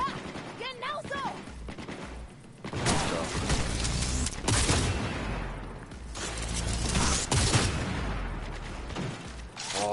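Rapid bursts of automatic gunfire and single shots in the video game Cyberpunk 2077, loud and close, firing in clusters across the clip, with a voice talking briefly over the shooting.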